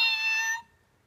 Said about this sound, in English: when you press its tummy,